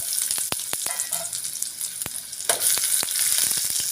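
Oil in a pan sizzles steadily as food fries, with a bright continuous hiss broken by sharp crackles and a few stirring knocks close by.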